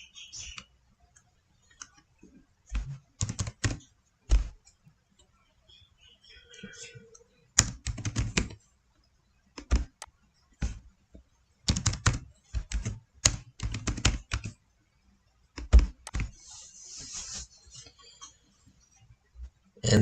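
Bursts of computer keyboard typing come in irregular clusters of crisp key clicks separated by short pauses, close and clear against a quiet background.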